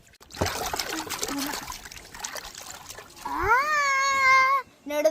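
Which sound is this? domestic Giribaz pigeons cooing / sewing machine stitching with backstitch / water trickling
water trickling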